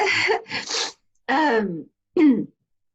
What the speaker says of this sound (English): sorry, I keep sneezing